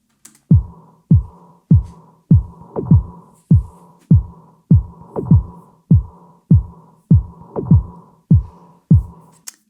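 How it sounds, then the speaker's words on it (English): A lone kick drum pounds out a steady, evenly spaced beat for a boss fight game music track, each punchy low thump decaying quickly, about a dozen hits, loud and dry with nothing else playing. "The next part is a kick, a beat"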